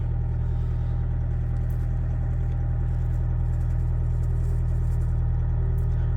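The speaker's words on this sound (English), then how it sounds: "She's noisy, isn't she? She's a big old diesel." A Toyota RAV4 Mk3 diesel idles on a freezing cold day, its big engine clattering in a loud, steady low rumble close by, with no talk over it.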